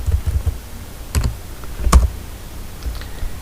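A few scattered keystrokes tap on a computer keyboard while a network device description is entered, soft and sparse against a noisy low background rumble.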